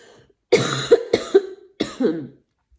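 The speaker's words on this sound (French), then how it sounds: "J'ai une petite toux." Someone coughs several times in quick bursts, close and fairly loud, with brief pauses between them.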